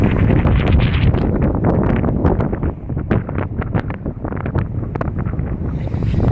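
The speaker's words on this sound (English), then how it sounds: "Man, it's windy." Strong wind roars and buffets the microphone nonstop by the water near the Sunshine Skyway Bridge on Tampa Bay, loud and close, with gusty thumping throughout and no talking.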